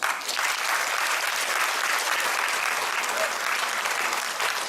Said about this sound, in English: Let's give him a very good round of applause.